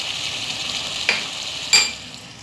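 Dry coriander and crushed red chili going into a sizzling pan for spicy cream chicken, a steady close frying hiss with two brief louder bursts of sizzle as the spices land.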